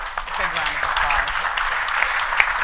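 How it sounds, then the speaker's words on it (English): An audience at a business panel on the economic climate applauds its panelists, a steady clapping crowd with voices talking over it throughout. "please give our panelists a big round of applause."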